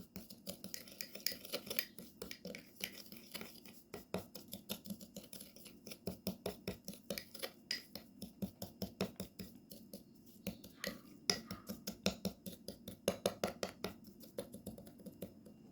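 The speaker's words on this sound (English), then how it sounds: "And now we need to mix well all the ingredients." A homemade teeth-whitening paste with baking soda is stirred briskly in a small container, giving a steady run of quiet, rapid scraping clicks that speed up toward the end.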